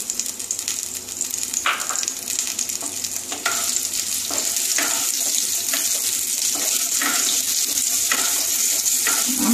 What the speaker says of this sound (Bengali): আমটা একটু ভেজে নিই